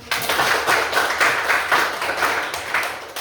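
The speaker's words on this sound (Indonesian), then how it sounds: "Ya, kita beri aplaus." A classroom group of students claps together for their team, a steady, dense patter of many hands sustained throughout at close range with no talking.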